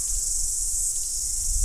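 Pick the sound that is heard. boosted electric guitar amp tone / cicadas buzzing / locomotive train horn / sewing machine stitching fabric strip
cicadas buzzing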